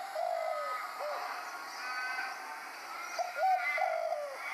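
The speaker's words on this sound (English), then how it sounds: "Spotted Dove" A Spotted Dove call played from a bird app: several soft, rhythmic cooing phrases in a repeating pattern, clear and close with a quiet background.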